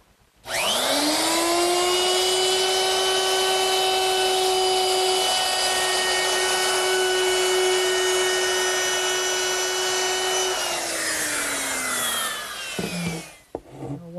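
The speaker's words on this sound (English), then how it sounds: "To make that round over, I'm using a 3/8 inch radius round over bit" A wood router fitted with a 3/8 inch radius round over bit, only partly exposed for a slight round over, whines loudly and steadily for about ten seconds, then winds down as it is switched off, with no talking.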